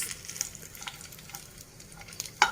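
Fresh dates roasting lightly in ghee in a pan for dry fruit ladoos, giving a soft, steady sizzle with faint crackles and a sharp clink near the end.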